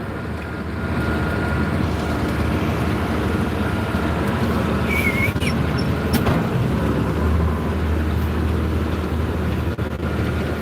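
Steady, loud low engine drone of a farm tractor heard from inside the cab during fieldwork on a sunny day with soybean dust about, continuous and unbroken with no talk.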